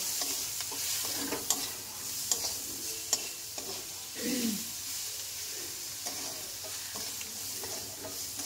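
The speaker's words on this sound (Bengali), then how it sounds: "ধনের গুঁড়ো 1 চামচ, দিয়ে ভালো করে আবার মিক্স করব।" Spices with a spoonful of coriander powder stirred in a frying pan, with repeated scraping clicks of the spoon over a soft sizzle, close and fairly quiet, with no voices.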